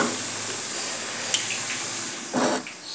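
A snack made from wheat flour fries in hot oil, giving a steady close sizzle with a brief louder bubbling burst near the end and no talking.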